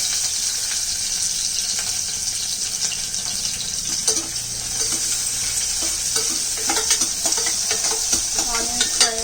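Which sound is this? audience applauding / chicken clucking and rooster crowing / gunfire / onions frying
onions frying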